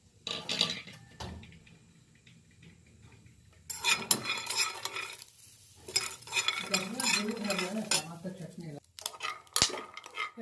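Peanuts dry-roasting in a pan over low heat, stirred with a utensil: irregular bursts of scraping, rattling and clinking, with quiet gaps between bouts and a faint sizzle beneath.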